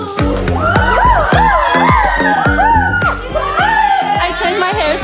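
A crowd of fans, many sounding young, screams and cheers loudly and continuously, with excited shouts and whoops rising and falling throughout.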